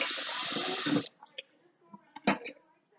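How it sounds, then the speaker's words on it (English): Tap water runs hard into a kitchen sink for about a second while a knife is rinsed, then cuts off, followed by faint clinks and small handling sounds in a quiet room. "So now let me just wash my knife a little bit."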